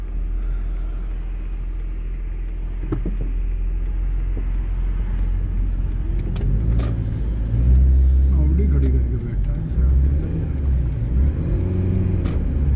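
A Toyota Prius drives along a road with a low, steady engine and road rumble inside the cabin, swelling slightly midway, while people talk over it.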